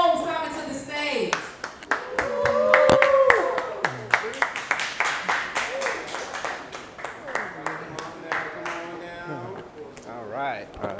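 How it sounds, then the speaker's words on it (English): Scattered clapping and snapping come from a patio audience welcoming a spoken word performer to the stage, a string of sharp, uneven claps that rise, thin out and pick up again, with talking and calls mixed in. "Y'all better clap it up, snap it up."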